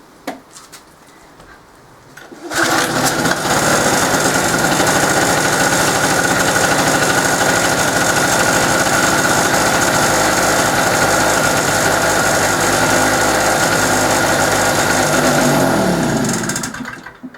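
An old petrol generator runs on full choke, a loud steady engine drone that starts abruptly after a quiet moment and holds evenly before dropping away at the very end.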